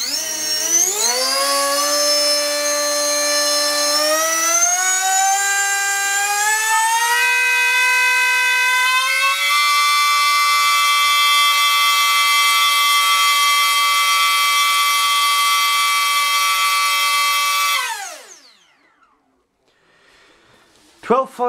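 A SunnySky 2207 2100kv brushless motor on 6s spins a propeller at max throttle, a loud whining drone that rises in pitch over several seconds, holds a steady high tone, then cuts off and spins down.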